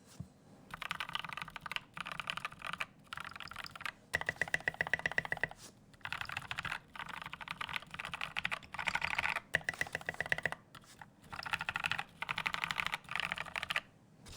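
Typing on a mechanical keyboard with lubed Gateron Yellow switches on a Discipline board, close and clear, rapid bursts of muted key clacks separated by short pauses, with no voices.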